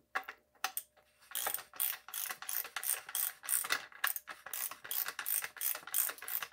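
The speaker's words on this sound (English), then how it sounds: "Use the ratchet till we go down all the way." A ratchet tightening during a service of a 2018 27.5-inch Rockshox Pike RCT3 suspension fork, a fast run of close, crisp metallic clicks in short bursts, sparse at first, then dense and steady.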